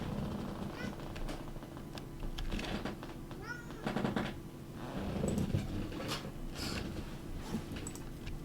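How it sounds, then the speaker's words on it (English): A pet cat meows several times near a home router and cable modem, short nasal cries scattered among clicks and low room noise, with faint voices in the background. "I blame the cat"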